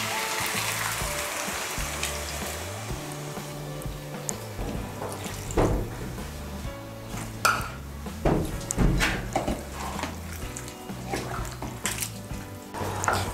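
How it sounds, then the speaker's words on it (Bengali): Hot water poured into a cooking pot over a salt-and-sugar mixture for a jackfruit curry, splashing and gurgling with clinks of the pot, irregular bursts over a low background hum. "আমি এর মধ্যে 1 কাপ আর হাফ কাপ গরম জল দিচ্ছি।"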